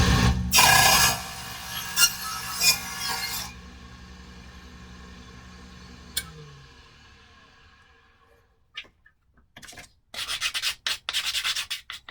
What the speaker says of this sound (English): Small sanding block like this is really good.